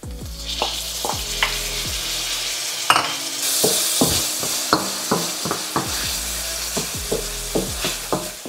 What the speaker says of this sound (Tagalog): Gisahin nyo lang maigi. Tapos ilagay nyo na yung kamatis.